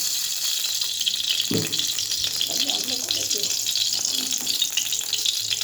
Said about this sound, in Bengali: জল পড়ে গেল বন্ধুরা।